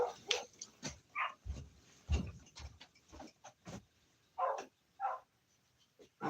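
Dogs bark at home in a series of short, punchy woofs, some deeper and some higher, spaced irregularly with brief gaps, fairly close but not loud.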